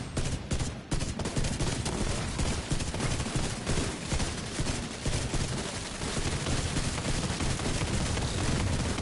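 Continuous automatic gunfire from a favourite gun in The Division 2, dense, rapid and loud for the full stretch, with no pauses and no voices.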